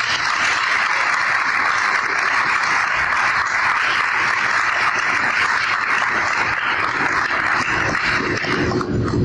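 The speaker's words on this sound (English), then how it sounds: "Community, give yourselves a hand." A community gathering breaks into loud, sustained applause, a dense continuous wash of clapping that stays steady throughout.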